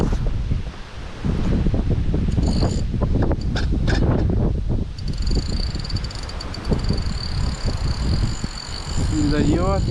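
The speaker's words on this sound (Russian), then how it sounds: "Ветер, не знаю, себя не слышу." Strong wind buffets a microphone outdoors while fishing in stormy, rainy October weather, a loud, continuous low rumble with gusty surges. Someone talks at times, and a few brief high tones appear near the end.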